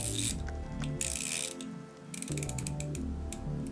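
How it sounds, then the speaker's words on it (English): Rapid ratcheting clicks as the rotating bezel of an Invicta diver's watch with a 52 mm gold-tone case is turned, coming in close, crisp bursts with a short pause midway and no talking. "The bezel does rotate. Just listen to the sound."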